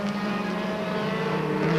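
Race car with a faltering motor at Monadnock Speedway during a 1994 stock car event, a steady droning engine hum with harmonic tones holding at moderate distance throughout, no speech.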